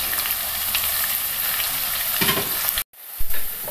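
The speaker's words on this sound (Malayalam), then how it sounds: "ചൂടായ ഓയിലിലേക്ക് നമുക്ക് സവാള ഇട്ട് കൊടുക്കാം." Sliced onions for egg biryani garnish sizzle in hot sunflower oil, a steady loud crackling hiss with occasional stirring scrapes, broken by a short gap near the end before the frying resumes.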